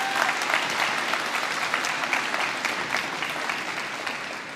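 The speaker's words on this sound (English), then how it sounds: "let's give them a round of applause" Audience applause at a 2022 graduation ceremony, steady, dense clapping from a large crowd that holds at an even level for several seconds with no talking over it.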